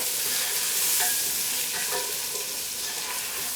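Pre-made mixed masala is stirred in a little oil, producing a steady hissing sizzle with a few brief scraping strokes of a spoon against the pan.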